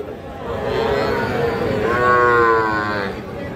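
A young Sahiwal bull calf lets out a long, drawn-out moo close by, rising in the middle, with faint crowd noise behind at a cattle market.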